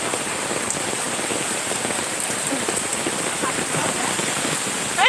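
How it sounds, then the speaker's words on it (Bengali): Heavy rain pours steadily in the village, a dense constant patter drumming on surfaces close by and loud throughout, with no break. "অনেক বৃষ্টি।"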